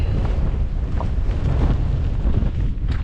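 Strong wind buffets the microphone on the Skye Trail, a loud, continuous low roar with gusty swells and no voices.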